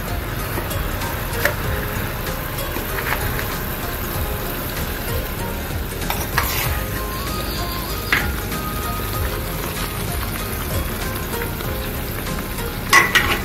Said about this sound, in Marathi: त्याच्यामध्ये आपण रवा घालू